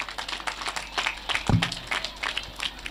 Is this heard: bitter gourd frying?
no